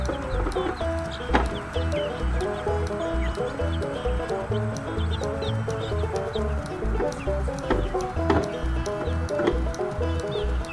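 A flock of backyard chickens clucks steadily and close by, with overlapping rhythmic clucks and occasional louder squawks continuing throughout.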